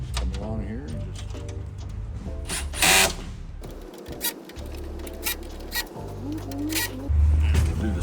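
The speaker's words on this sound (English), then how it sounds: "we'll go ahead and tighten those. That's just going to be your M4 and your 10mm wrench." M4 bolts are tightened with a 10mm wrench while a cargo shelf is assembled, making quick, close clicking and ratcheting bursts through the clip, with a voice heard in the background.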